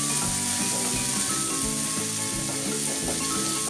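Curry leaves, onion and green chilli fry in oil, giving a constant close sizzle with a little stirring and no speech.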